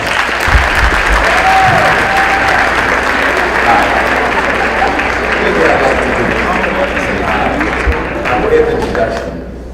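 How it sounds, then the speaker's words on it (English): A high school audience breaks into sustained, dense applause to welcome a guest lecturer, loud and steady throughout before thinning slightly at the end. "Please join me in giving him a round of applause."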